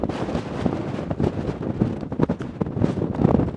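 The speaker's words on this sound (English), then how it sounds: "It's a good place to glass for deer, but it's windy." Steady, blustery wind on a mountain summit in Nevada, rumbling and buffeting the microphone, gusting up and down in loudness with no voices present.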